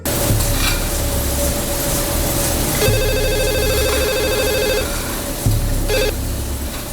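A telephone rings in a couple of electronic trilling bursts over a loud, continuous sizzling hiss, with a low hum underneath.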